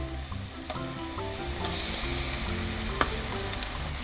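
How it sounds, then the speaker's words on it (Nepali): Onion and ginger-garlic paste fry in a pan for a Nepali peas-leaves and potato curry, giving a constant soft sizzle with a few light stirring scrapes and one sharper clack near the end. "अब लसुन अदुवाको पेस्टलाई पनि यसमा भुटौँ प्याज सँगसँगै"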